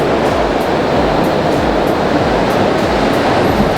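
Ocean surf washes onto a beach in Boracay, a loud, steady hiss of breaking waves with faint rhythmic pulses, heard close and alone.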